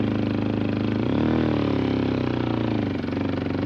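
A CF Moto Papio CL motorcycle revving off-road in sand, a loud close engine drone that climbs in pitch as the throttle opens, holds, then drops back toward the end.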